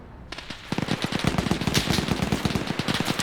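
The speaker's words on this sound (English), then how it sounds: "Meanwhile, Wise over here is teaching Green for the true meaning of Christmas with a 50 cal." .50 cal heavy machine gun firing in a WW2 tank battle game, long bursts of fast, punchy shots after a brief quiet start, loud and close, with no voices.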